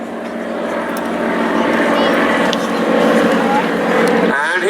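An aerobatic display aircraft with smoke on pulls up into a loop at the Duxford air show, a loud, sustained engine roar that holds steady and close for several seconds, with commentary heard over it.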